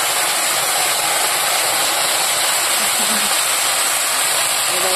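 Bottle gourd hits hot oil with coriander seeds and black cumin in a pan, giving a dense, steady sizzle that hisses loudly and evenly throughout.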